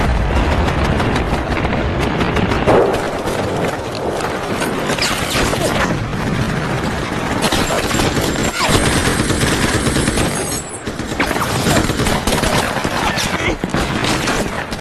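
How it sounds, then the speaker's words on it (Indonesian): Gunfire from a Korean War film set in Pyongyang in 1950, with dense, loud bursts of rapid shots and crashes running almost continuously, briefly dropping away near the end. "Rentetan demi rentetan tembakan mewarnai kota tersebut hingga mengakibatkan banyaknya korban jiwa di kedua negara."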